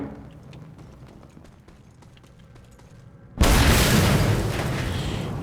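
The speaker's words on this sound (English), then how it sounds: "I assume whatever you're talking about is defeated by one of these explosions." A loud explosion in the video game Mad Max (2015) erupts suddenly after a stretch of quiet game ambience, its broad roaring blast holding strong and rumbling for about two seconds.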